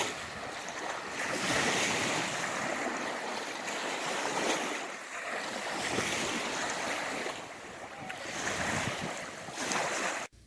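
Surf rolls steadily onto the beach at Grand Island, Michigan, a continuous loud wash of waves with gusting wind buffeting the microphone and no voices.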